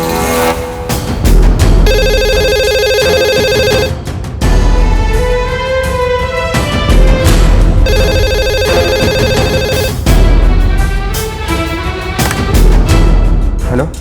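A landline telephone rings loudly in repeated electronic bursts of about two seconds each, alternating with short gaps, over a heavy low rumbling background.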